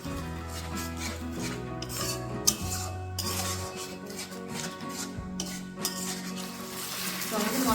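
A spice masala of Kashmiri chilli powder and cumin, loosened with a little water, is stirred in a pan with repeated scraping and clinking strokes over a low sizzle, near and fairly loud, no talk.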